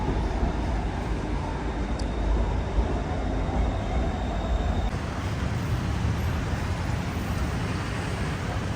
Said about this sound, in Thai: รถไฟมาอีกแล้วครับ